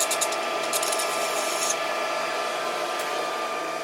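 A lathe cuts a taper with the compound set at 5 degrees, giving a steady whirring machine drone with high whining tones and a brief gritty cutting chatter early on, continuous and fairly close.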